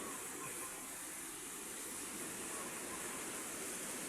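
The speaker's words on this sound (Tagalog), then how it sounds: "Ayan yung dagat to." Constant broadband roar of surf, steady and fairly loud with no clear breaks between waves, no voices.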